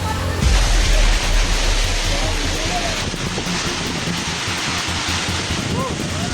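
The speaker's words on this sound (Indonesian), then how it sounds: "Di Bandung lagi hujan es batu. Lihat anginnya kenceng nih." A hailstorm with strong wind strikes Bandung's Kopo area: a loud, roaring wash of hail and gusting wind fills the whole stretch, heaviest at the start and then holding steady.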